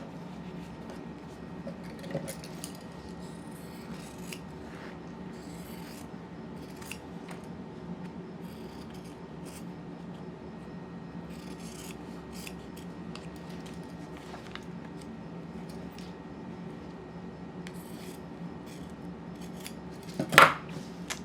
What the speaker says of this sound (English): So if I were to fold my fabric like this and cut it out